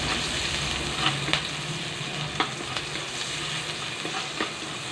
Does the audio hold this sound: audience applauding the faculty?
no